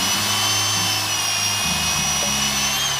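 A steady, loud power drill whirs continuously, its motor pitch shifting slightly partway through as it bites into the metal eye of an axe head.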